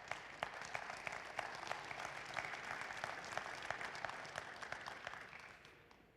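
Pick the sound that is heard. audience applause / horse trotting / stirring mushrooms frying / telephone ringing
audience applause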